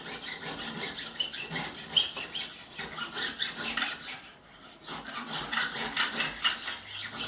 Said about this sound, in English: I'm also beveling at the same time, just slightly arcing over these frets, just at this edge here.